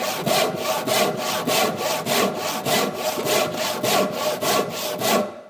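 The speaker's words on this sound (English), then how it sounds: "so I'm keeping my saw in the kerf to keep it square" A hand saw cuts wood for a workbench, with even back-and-forth rasping strokes at a steady rhythm, loud and close, about a dozen strokes. Someone speaks briefly over it.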